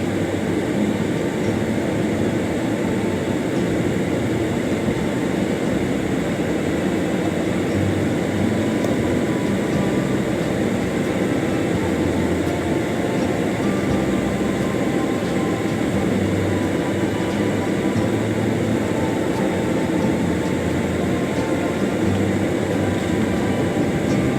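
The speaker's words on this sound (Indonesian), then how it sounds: "Suara AC ini ya, AC-nya saya bikin berlebihan karena panas." An air conditioner runs on a high setting in hot weather, giving a loud, steady whooshing hum that stays constant from start to finish.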